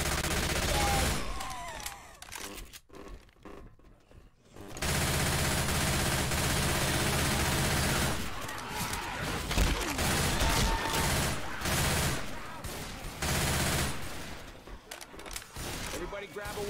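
Uzi submachine gun fire in Left 4 Dead 2, loud sustained bursts with brief pauses, heard alongside players talking.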